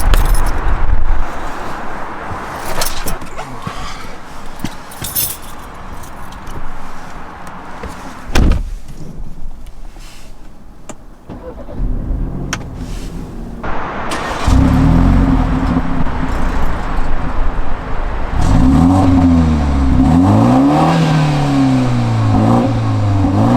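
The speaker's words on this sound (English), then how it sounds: "We'll go for a bit of a drive in the car, we'll get in, let's go." A 2020 BMW 330i G20 sedan: door thuds and cabin handling sounds, then the engine starts and revs as the car pulls away and accelerates, growing steadily louder over the second half.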